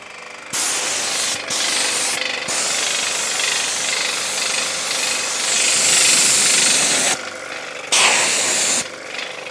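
A continuous loud hissing spray from an airless paint sprayer, running steadily for several seconds with a few short breaks.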